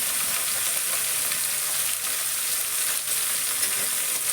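Bottle gourd and green peas fry in a pan with green chilli, a steady, loud, hissing sizzle that continues without a break and carries faint stirring scrapes.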